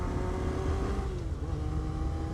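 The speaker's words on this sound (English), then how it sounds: "this bike sounds a lot faster than it is actually going" A Yamaha FZR 1000 motorcycle engine drones steadily while riding, a loud, close, continuous rumble with a slight pitch dip partway through and no talk.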